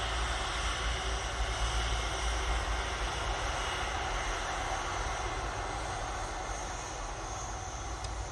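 Airliner taking off from Manchester Airport bound for Palma, a continuous distant jet roar and low rumble that eases slightly toward the end, with no talking.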